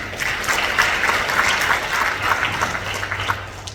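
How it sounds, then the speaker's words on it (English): A talk audience gives themselves a round of applause, dense continuous clapping from many people filling the room at full level from start to finish. "Give yourself a round of applause if you got something."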